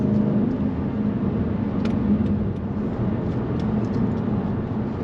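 A 2012 Dodge Challenger SRT8 392 with a six-speed manual cruising on a highway, steady engine drone and road and tire roar heard from inside the cabin, even and continuous with no talking.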